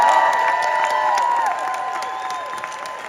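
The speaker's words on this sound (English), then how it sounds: "give a huge round of applause for these unbelievable leaders" Steady applause from a crowd, dense and continuous, gradually easing in volume toward the end with a few scattered cheers.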